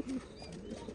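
Pigeons from an Andhra Pradesh loft give a short, soft, low cooing call, fairly close but quiet, over faint background hiss.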